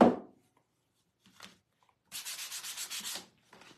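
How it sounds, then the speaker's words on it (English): A chalk-painted wooden bakery sign is lightly sanded by hand, making a close, brisk rhythmic rubbing for about a second. A few quieter scuffs come before and after it, with no talk. "I'm just going to lightly sand this."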